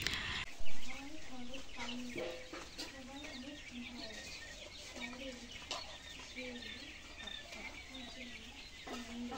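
Farm chickens cluck and chatter in repeated short bursts while being fed, a steady flock murmur mid-distance with a brief louder bump near the start and some faint talk underneath.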